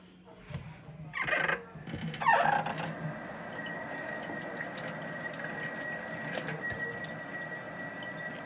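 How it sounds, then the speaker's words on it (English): Running tap water rinsing a fork at a kitchen sink while cooking, a short clatter of the utensil followed by a steady, fairly quiet stream of water under faint room noise. "Gonna rinse the fork."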